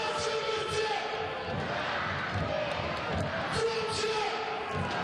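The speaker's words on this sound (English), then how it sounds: "The crowd shout Nadezhda." A women's EuroLeague basketball arena crowd at a Nadezhda quarter-final game keeps up a steady, far-off roar of rhythmic chanting, with sneaker squeaks cutting through the din throughout.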